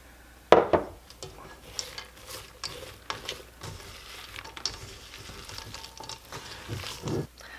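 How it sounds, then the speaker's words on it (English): Thick apple bread dough with black walnuts being stirred by hand, giving scraping, clicking and thudding knocks in an irregular rhythm, close and fairly quiet, with no talking. "We're going to add the black walnuts and stir them in."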